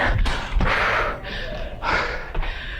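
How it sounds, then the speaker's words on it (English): Heavy, rhythmic breathing and gasping from a person during a live TRX sweat workout, close to the mic, with soft thuds of movement underneath. "I'm gonna try not to like overpower you in the mic with my heavy breathing."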